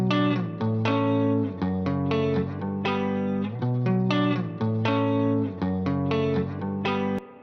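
An electric guitar plays a semi-wet pop part through a spring reverb plugin. Chords ring out in a steady rhythm with a reverberant tail, loud and alone.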